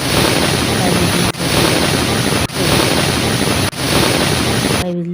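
A loud, continuous steam hiss of a pressure cooker whistle while cooking goat head meat, broken by three brief dips, then cutting off near the end.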